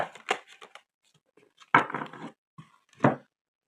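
Tarot cards being shuffled by hand in several short, crisp riffling bursts separated by pauses, close and fairly quiet, with no talk over them.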